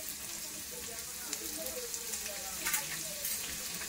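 Finely chopped onion hits hot oil with red chillies and fries with a steady sizzle, a few louder crackles and pops rising from a constant hiss close by.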